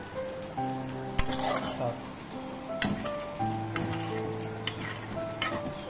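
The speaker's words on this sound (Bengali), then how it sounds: "আমি আবার ছেড়ে দিচ্ছি, একটু নেড়ে নিই। হালকা নেড়ে নিলাম" Food frying in a pan while it is stirred, a continuous sizzle broken by scraping utensil strokes and a few sharp clinks, with music and a voice in the background.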